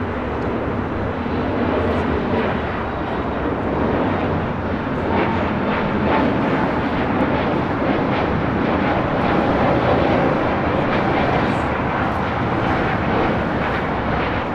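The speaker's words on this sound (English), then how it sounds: "3034 taking off to Salt Lake City on an A320 Neo" A Spirit Airlines Airbus A320neo takes off from runway 25R at LAX with a loud, continuous engine roar that stays broad and steady throughout, with no voices heard.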